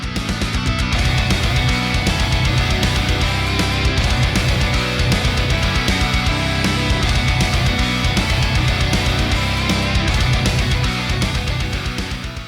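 A melodic death metal song blasts at full volume, with dense distorted guitars, pounding rapid kick drums and crashing cymbals filling the sound without pause.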